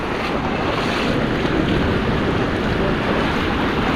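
Ocean waves at high tide wash against a tidal pool on Siargao, a loud continuous surf roar mixed with heavy wind buffeting, with no talking.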